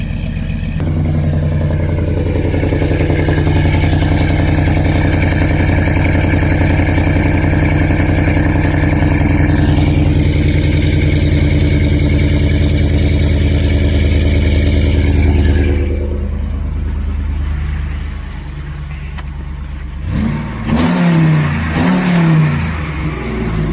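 A cammed 5.7 HEMI V8 with its exhaust cutout open revs hard and loud for about fifteen seconds in sustained pulls, then drops back to a lumpy idle with a few short blips.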